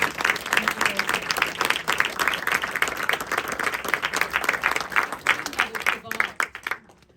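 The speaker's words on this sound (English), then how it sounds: "give you a round of applause" A panel audience applauds Titanic survivors' descendants, with clustered claps coming in bursts and some louder hands close by. The clapping tapers and cuts off near the end.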